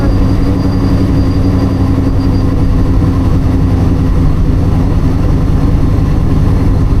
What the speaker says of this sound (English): now I'm going to give her a little gas here